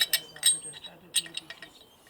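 Light metallic clinks and taps as parts of a metal meat grinder are handled, with the cutting knife removed and a filling ring fitted in its place, a few sharp close clicks scattered over a quiet background.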